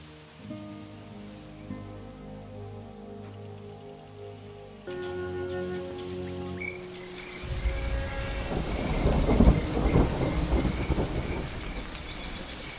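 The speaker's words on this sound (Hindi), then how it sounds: "ये अचानक बारिश हो जाना सामान्य नहीं लग रहा।" A sudden thunderstorm breaks over the Serengeti plains, rain building into a heavy wash with deep rolling thunder, preceded by soft sustained tones before the storm swells louder.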